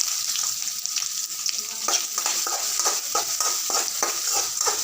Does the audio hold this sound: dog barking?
no